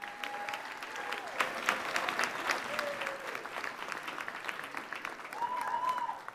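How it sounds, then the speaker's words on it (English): Applause from an audience at a college commencement ceremony, sustained moderate clapping with a few faint whistles, somewhat distant and steady throughout. "One more applause for them."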